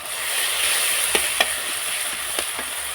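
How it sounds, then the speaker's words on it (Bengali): Turmeric paste, added with ginger-garlic paste, sizzles loudly and steadily in a hot pan for a curry of prawns and cauliflower, with a few sharp clicks of stirring. "এবারে দেব হলুদ বাটা"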